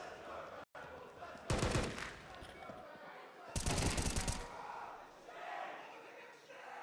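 Gunfire in a Counter-Strike match on the Ancient map, with two dense bursts of rapid shots separated by pauses, set against crowd noise and commentary.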